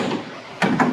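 Door being set into place on an Anritsu XR75 X-ray large bulk hopper: two quick metallic knocks close together near the end, following a quieter rubbing sound.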